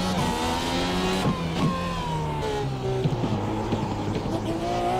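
Race car in the iRacing sim at Long Beach, rear wheels locking under hard braking, a loud engine note falling through downshifts with tire squeal and skidding scrubs, steady and close throughout.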